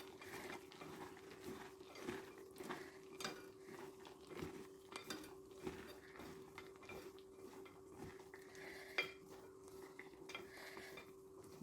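Peanuts for crunchy spicy peanuts being stirred in a bowl with crushed garlic and sprinkled water before frying, giving soft repeated scraping and clinking of a spoon against the bowl, close and fairly quiet, with no talking.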